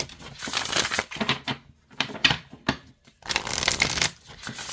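An oracle card deck is shuffled by hand in several quick crisp riffling bursts separated by short pauses, close and loud with no speech.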